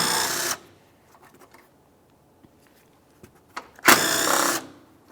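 A power tool with a 10mm socket backs off two mounting nuts on a 2011-2018 Volkswagen Jetta, giving two short, loud whirring bursts up close with scattered faint clicks and handling noise between them.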